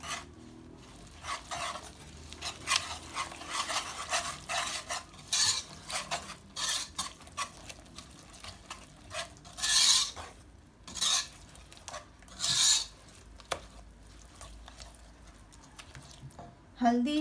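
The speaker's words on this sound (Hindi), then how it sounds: "और लाल मिर्च पाउडर। और अब हम इसे मिक्स कर लेंगे।" Turmeric, red chili powder and spices get stirred in a bowl with a spoon, making repeated scraping and clinking strokes in irregular bursts, fairly faint and close.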